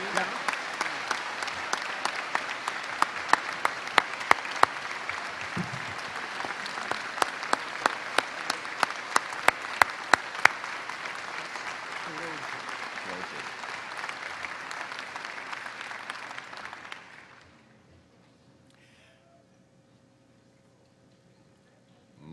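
Sustained audience applause at a spring university convocation ceremony, a dense loud wash of many hands clapping with sharper nearby claps, running about seventeen seconds before cutting off to near silence.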